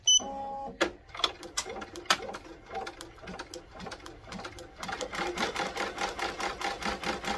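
A Ricoma EM1010 embroidery machine stitches out a letter I with a small snowflake on top, running slowly with rapid repetitive needle clatter that grows steadier and busier in the second half, fairly quiet and with no talk.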